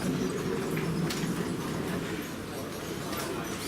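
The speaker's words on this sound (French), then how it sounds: "Et là on est dans le métro." Steady rumble and rattle of a Hong Kong metro train in motion, heard from inside the car, with muffled voices in the background.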